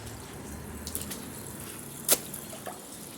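Water runs quietly into the tank of a 1992 Lamosa Sahara toilet, a faint continuous trickle broken by a few small splashes and clinks, with no voices.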